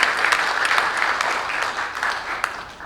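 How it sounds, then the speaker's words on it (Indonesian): An audience at a book and song launch event for child protection applauds steadily, a dense wash of many hands clapping close and even, with no talk over it. "Tepuk tangan dong untuk Pak Aris."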